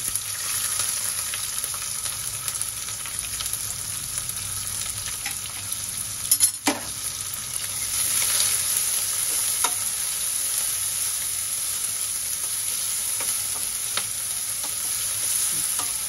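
Onion frying in oil with sesame and dried coconut for a mixed vegetable bhaji, a steady close sizzle with a brief louder burst midway as more goes into the pan, and no talking.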